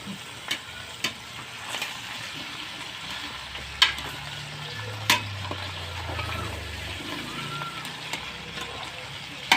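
Chicken curry with potatoes sizzles steadily in a frying pan while a spoon stirs it, with occasional sharp clinks against the pan over the constant frying hiss.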